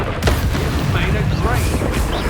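A Confringo spell explosion in Hogwarts Legacy: a deep, heavy boom with rumbling debris that stays loud throughout, with a voice speaking over it.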